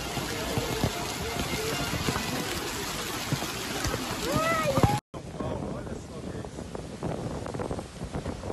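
Torrential rain from a severe storm in Valencia, Spain, a dense steady roar of heavy rain beating on surfaces with wind buffeting the microphone, cut briefly midway before the downpour continues.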